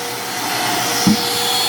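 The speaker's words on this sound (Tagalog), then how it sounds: "Kailangan gumamit kayo ng vacuum." A vacuum cleaner cleaning a cement surface before waterproofing runs steadily with a broad, even whoosh, close by and unbroken, with a brief thump partway through.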